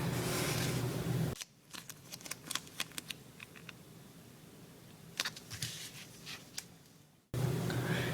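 Scissors snip through duct tape up close, a series of crisp, quick cuts spaced irregularly amid quiet handling, with louder room noise framing the start and end.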